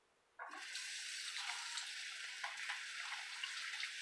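Running tap water splashing over hands being washed with handmade soap at a sink, starting abruptly after a moment of quiet and continuing as a steady close hiss with small shifts as the hands move.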